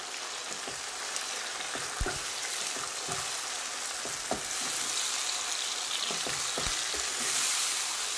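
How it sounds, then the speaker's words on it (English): Tomatoes hit a pan of caramelized onions for kofta biryani, a steady loud sizzle running throughout with irregular scraping knocks of a spoon stirring them in, no voices. "we're going to add the tomatoes in. So just add them in and then just mix that in."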